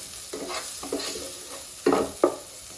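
White sauce pasta cooks in a pan as a spoon stirs it in a few short scraping strokes over a soft, steady bubbling.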